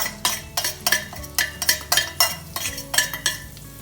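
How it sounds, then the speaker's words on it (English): Herbs, spices, garlic and ginger fry in oil for a cauliflower and lentil curry while a utensil scrapes the pan in a brisk, rhythmic stirring pattern over a light sizzle. "let these herbs and spices fry in the oil with the garlic and the ginger"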